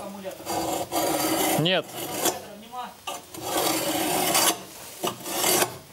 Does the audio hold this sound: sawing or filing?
yes